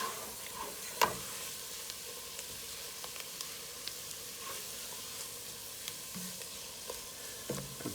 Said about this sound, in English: And now we'll stir this around. Get the flour over everything.